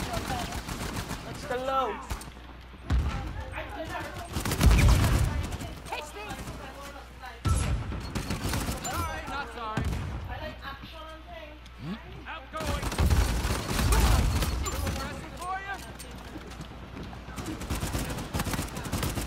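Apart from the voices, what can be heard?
gunfire in a video game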